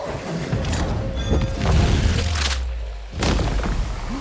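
Gunshot from a corpse enemy in Banishers: Ghosts of New Eden, heavy booming reports among thuds and crashes of combat, loud and close, with a few separate blasts over several seconds.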